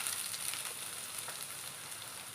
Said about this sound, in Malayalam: തേങ്ങ ഒന്ന് വറുത്തെടുക്കാം